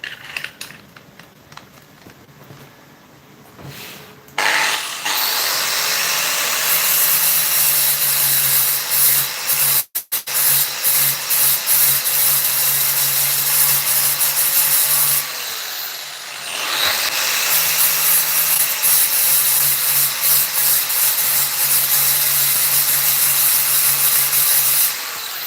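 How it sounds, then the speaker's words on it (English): An angle grinder works over a custom e-bike hub (QS205-QS273) in quick passes, a loud, steady abrasive whine running near and continuous with brief breaks, no one talking. "quick flushes, not holding the grinder at in the one spot"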